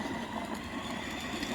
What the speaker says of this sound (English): Here comes the smart train and the engineer.